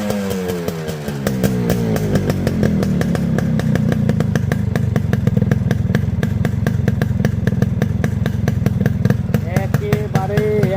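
A Yamaha RX 100 two-stroke motorcycle with its original carburetor idles loudly and close by, a rapid, even, buzzy putter that stays steady throughout, with a brief revving note near the end.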